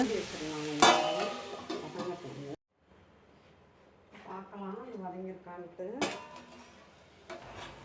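Onions being sautéed in a pan for a hotel-style plain kurma, with a few clanks of the spoon against the pan near the start and end, under someone speaking at moderate volume.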